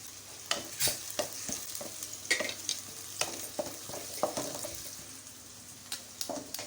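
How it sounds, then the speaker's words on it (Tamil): Onions fry in hot oil in a pan while a spoon stirs them, making a soft sizzle under a series of scraping and clinking strokes that come in irregular bursts, close and fairly quiet, with no voices. "எண்ணெய் காஞ்சிருச்சு. இதை வெங்காயம் பிரட்டி விட்டுட்டு"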